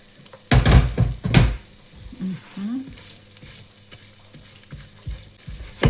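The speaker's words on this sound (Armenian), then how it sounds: "հիմա սոխը կլցնեմ, սոխառած կանեմ" Onions sizzle in a hot pan with a few loud bursts of frying and stirring clatter, then settle into a quiet background sizzle.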